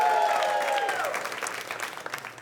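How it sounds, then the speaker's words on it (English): Comedy club audience claps in a sustained burst, loud at first and thinning into scattered claps that fade toward the end. "Now clap if you're not related to me."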